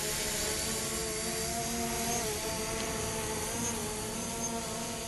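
A DJI Mavic Pro drone takes off with a steady, faint buzzing whine of its propellers, holding an even, continuous tone at a moderate distance.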